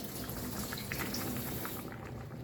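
Monggo and paksiw bubbling at a steady boil in a cooking pot, a dense continuous simmer with faint pops, close and fairly quiet, with no talking.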